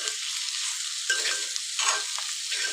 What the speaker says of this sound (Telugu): ఒక 5 మినిట్స్ మంచిగా ఇట్లా ఆయిల్లో ఫ్రై అవ్వనిద్దాం